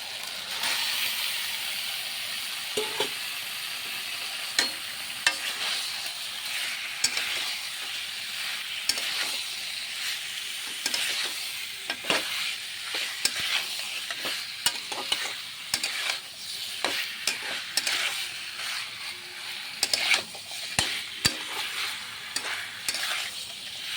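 Chicken sizzles and fries steadily in a spiced masala, a bright continuous hiss broken by the clatter of stirring, close up and without speech.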